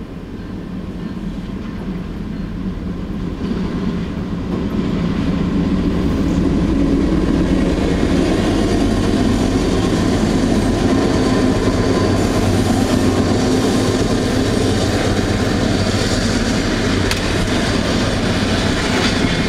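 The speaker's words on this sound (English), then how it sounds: "Don't cross in front of the train there" A loud Pan Am freight train rumbling past close by in North Adams, Massachusetts, a continuous heavy roar with rhythmic wheel clatter that builds and holds throughout.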